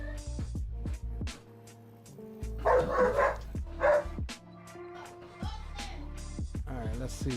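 Dog barking outside in a few short bursts, heard behind music and a voice talking during flight simulator play.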